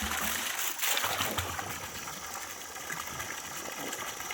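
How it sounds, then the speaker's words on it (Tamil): Borewell water from a 750-foot bore gushes out of a 2.5-inch pipe in Thalavadi, a steady broadband splashing rush that stays close and strong throughout without any talk. "இதுதான் அந்த தண்ணி வர்றது"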